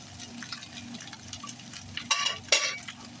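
Veggie chicken fried rice being stirred in a pan, soft scraping and a light sizzle with two louder clanks of a utensil against the pan near the end.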